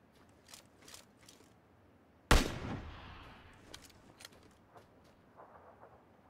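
A single sharp SKS rifle shot from PUBG Battlegrounds cracks out loud and close, then rings and decays over a couple of seconds, with faint clicks and small game noises before and after.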